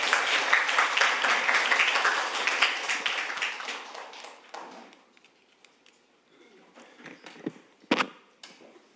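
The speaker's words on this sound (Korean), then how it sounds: "저희 소개를 맡아주실 실장님 큰 박수로 맞아주시기 바랍니다" A room of attendees at a National Assembly briefing session welcomes a speaker, a research office director, with fairly quiet applause that fades after about four seconds, leaving a few scattered claps and taps in near silence.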